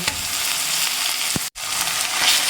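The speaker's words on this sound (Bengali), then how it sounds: "রসুনটাকে একটু তেলের মধ্যে ভেজে নেওয়ার পর আমি দিয়ে দিলাম এটা আদা" Garlic and ginger frying in oil in a pan for a mutton curry, a steady loud crackling sizzle that drops out for a brief moment near the middle and then resumes.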